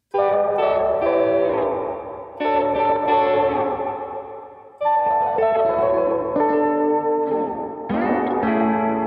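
Short, plucked guitar blips run through a dream pop effects preset in Logic Pro, bathed in chorus, echo and reverb. Four bursts of notes ring out loudly and decay into each other, with no talking.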